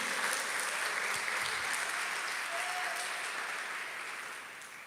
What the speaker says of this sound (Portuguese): Vamos dar uma salva de palmas para esse Jesus maravilhoso.